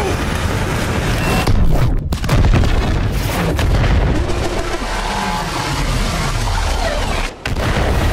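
Cannon blasts and heavy booms from a mission cutscene in the Overwatch 2 video game as the weapon obliterates a Titan, loud and continuous over several seconds with rumbling low-end impacts and brief dropouts between bursts.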